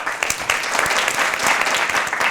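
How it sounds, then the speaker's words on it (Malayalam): A television show's studio audience claps in dense, sustained applause, many hands together at a steady, lively level. "ഉഗ്രം കൈയടി കൊടുക്കണം."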